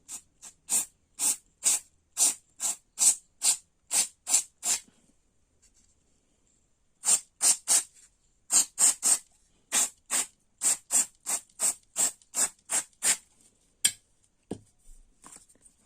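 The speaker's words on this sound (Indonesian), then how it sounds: "Coba semprot lagi." Short sharp bursts of cleaner spray hit a motorcycle's digital speedometer, rapid hissing pumps in quick runs with a pause in the middle, close and loud.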